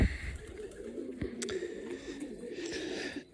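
A pigeon coos in low, rolling phrases at close range, steady and moderately loud over a faint background hiss, with one brief sharp knock partway through.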